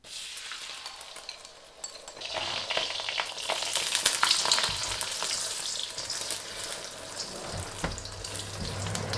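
Beaten egg hits hot, lightly smoking oil in a wok and erupts into a loud, steady sizzle that swells after a quiet start and keeps crackling throughout.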